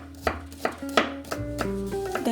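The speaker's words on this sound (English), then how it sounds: "And I will also slice up some shallot for a little bit of a kick." A knife slices a shallot on a cutting board in about eight crisp, quick cuts, close and clear with no talking.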